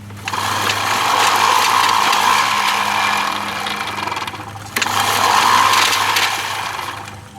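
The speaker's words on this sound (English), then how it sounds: "The blade stops spinning as soon as I stop pushing the mower." A precision reel mower's spinning blade whirs steadily while the mower is pushed, a loud continuous mechanical whir with a brief drop and restart partway through.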